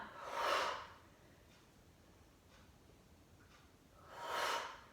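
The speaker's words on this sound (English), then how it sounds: "Inhale up, exhale down." Two audible Pilates breaths during a mat workout: a deep breath at the start and another near the end, with a quiet pause between them, close and soft.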